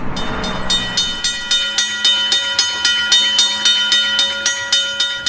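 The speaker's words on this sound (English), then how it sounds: "that's the sound, deng deng, the train would make coming through this section of town" Train rolling through a city section of Seoul on railway tracks, with a steady, regular clickety-clack of wheels over rail joints repeating about twice per second, loud and close, with no voices.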